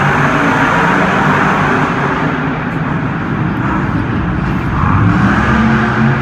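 Monster trucks race in the final round at Monster Jam inside the Alamo Dome in San Antonio, a loud, dense roar of engines blended with an echoing stadium crowd, steady and unbroken throughout.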